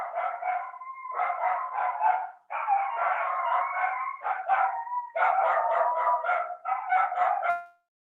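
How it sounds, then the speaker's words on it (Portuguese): A puppy yaps in rapid, high-pitched bursts, several runs of barking separated by short pauses, close and fairly loud. "esse é o filhotinho que aprendeu a latir"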